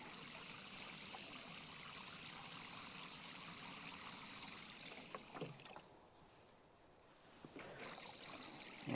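Water trickles and pours steadily to soak corn seedlings in a container, a faint continuous wash that briefly thins out before resuming, with no voices.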